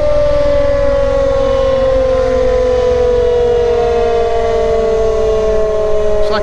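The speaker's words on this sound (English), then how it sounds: "It's like an air raid siren, Lisa" A loud, steady wailing air raid siren drones continuously at night in Portugal, its pitch sliding slowly downward, with no talking over it.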